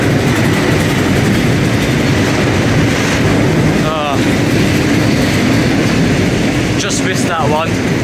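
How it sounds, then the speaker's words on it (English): A freight train rolls through Nottingham station in a steady, loud broadband rumble with faint wheel clatter, while a voice speaks briefly partway through. "there's a freight train on platform 7"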